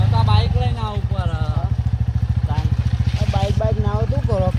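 Big motorcycle engine running on a farm field, with a loud, steady, close thumping idle pulse throughout and people talking over it.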